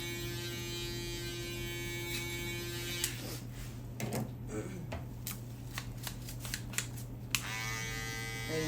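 Electric hair clippers buzzing steadily close by while cutting a mid taper with no guard and the lever open, switching to choppy scraping bursts as the blades work through hair, then a steady hum again.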